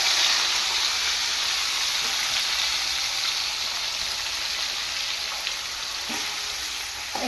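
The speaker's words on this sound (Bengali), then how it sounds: "এবার পেঁয়াজটা ভেজে নেব।" Onions sizzle steadily in hot oil in a pan, with bay leaf and whole garam masala already tempered, a close, continuous broadband frying hiss with faint stirring clicks throughout and no talk.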